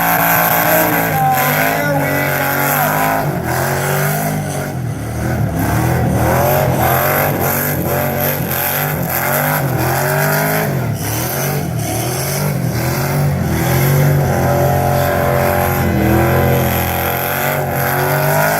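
A rock bouncer off-road car does a burnout at an LS Fest burnout competition, its engine roaring loudly and revving continuously with a rough, strained tone throughout.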